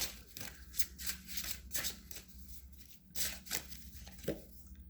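Yoga wisdom oracle cards being shuffled by hand, a run of quick riffling bursts and soft slaps at close range, fairly quiet, with no talking.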